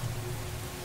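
Rain falling in the video game Mini World, a soft steady patter with a low rumbling bed, brief and fairly faint with no talk.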